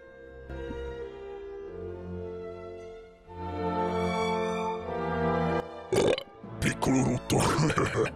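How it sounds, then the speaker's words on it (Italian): A small, drawn-out voiced burp with a low droning tone, followed by short, louder bursts of vocal sound near the close. "Piccolo rutto."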